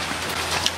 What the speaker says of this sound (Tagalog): Tapos umuulan-ulan pa.